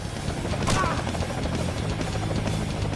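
Continuous rotor drone of a helicopter, loud and steady, with mechanical clatter and a muffled voice underneath.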